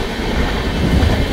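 A passenger train runs from Pune to Dadar, Mumbai, giving a loud, steady rumble of rolling wheels and carriage noise heard from inside, with no voices over it.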